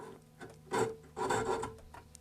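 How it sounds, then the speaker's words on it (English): Japanese flush cut saw undercutting a damaged wood furniture corner, two quiet rasping strokes close by with a short pause between them. "the easiest way to do that is with a flush cut saw"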